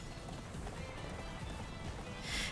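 Horse hooves clip-clopping at a gallop in a video game, a steady rapid patter running throughout over game sound, with a brief brighter swell near the end.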